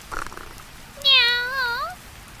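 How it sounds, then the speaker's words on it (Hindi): A cat gives a single clear, drawn-out meow up close, rising and then falling in pitch, following a faint brief noise a moment earlier. "बिल्ली धीरे धीरे घर के पास आई"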